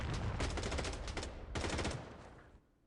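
Rapid automatic gunfire in the shooter game Blood Strike comes in two sustained bursts of fast rattling shots separated by a short pause, then fades out, with no voices.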